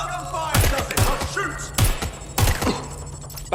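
Several sharp, heavy gunshot bursts in the Watch Dogs Legion video game, spaced irregularly over a few seconds with quieter gaps between them.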